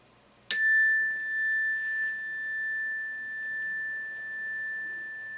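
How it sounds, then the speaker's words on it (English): A single clear mindfulness bell strike rings out and sustains a long, pure, slowly fading tone in otherwise near silence. "We're going to ring the bell."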